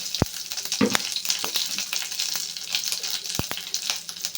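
Curry leaves hit hot oil in a kadai with popped mustard seeds and urad dal, giving a steady close sizzle and crackle with a few sharp pops and clinks, no talking.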